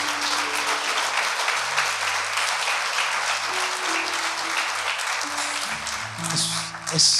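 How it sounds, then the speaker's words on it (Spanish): A church congregation applauds during a sermon by Pastor Luis Fernando Eusse, a dense, even wash of clapping that holds for several seconds, with a low tonal hum and some voices faintly underneath. "Dale un aplauso al Señor"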